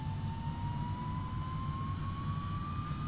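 A Carenado 390 Premier 1A jet engine spools up in the X-Plane 11 simulator, a steady droning rumble with a thin whine slowly rising in pitch, heard alone.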